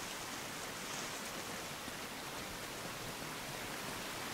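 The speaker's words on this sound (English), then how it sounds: "Waterfall. There's something behind it." A waterfall in the PS4 version of Uncharted: Drake's Fortune gives a constant, even hiss of rushing water, a dense wash of noise at low loudness with no variation.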